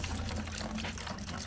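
Water from leftover plastic bottles poured into a plastic bucket for mixing concrete, a steady close splashing pour with no talk.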